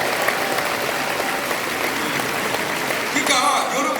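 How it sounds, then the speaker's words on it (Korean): A church congregation claps steadily throughout, a dense, even wash of applause from a sizable crowd, with a brief voice rising near the end. "스데반 집사님에서 박수 좀 쳐줘."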